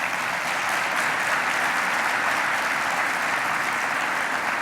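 Dense, steady applause from a large audience at a public announcement event, loud and continuous throughout without pauses.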